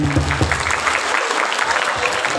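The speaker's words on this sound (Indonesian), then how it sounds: "luar biasa, tepuk tangan." An audience claps at an Isra Mi'raj religious gathering in Ungaran, a loud, busy patter of hands over a preacher's voice that carries on beneath the applause.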